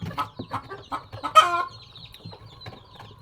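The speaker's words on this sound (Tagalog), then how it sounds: "Saba jud kay ang manok" Chickens cluck in a rapid, uneven series of close calls, with one louder squawk partway through, then scattered softer clucks in an outdoor farm setting.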